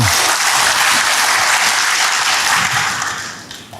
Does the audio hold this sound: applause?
yes